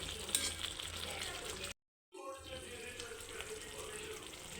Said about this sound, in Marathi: चांगलं कारलं शिजू द्यायचं. थोडं पाणी टाकलं मी त्याला शिजायसाठी.